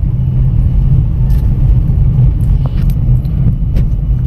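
A Renault Kiger non-turbo rolls along in fifth gear with no accelerator, giving a steady, loud, low engine and road rumble from inside the car.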